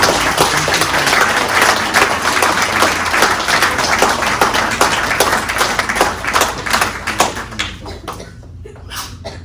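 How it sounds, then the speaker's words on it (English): Applause from a kung fu class or gathering, a dense round of clapping that thins into scattered claps near the end. "Let's have a round of applause for everybody."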